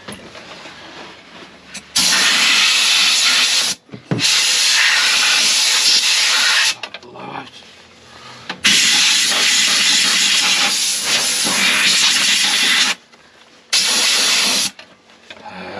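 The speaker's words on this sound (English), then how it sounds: "start blasting everything out with the airline" A compressed air line blasts out parts of a Bailey motorhome in loud, close bursts of hissing air, several long blasts separated by short pauses.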